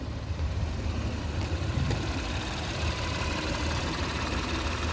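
A 2020 Honda Ridgeline RTL-E with all-wheel drive idles, a steady, even engine hum with a light rumble heard close and alone for several seconds.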